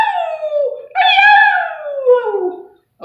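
A wild coyote in the Arizona desert gives two long wavering howls that rise and fall, loud and near, the second breaking into yelping tones, with a brief cut-off at the end.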